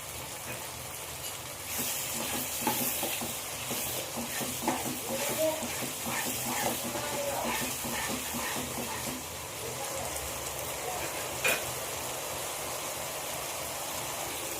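Chicken masala gravy sizzles in a pan while being stirred with a spoon, a steady moderate hiss broken by repeated scraping strokes at close range, with faint background voices.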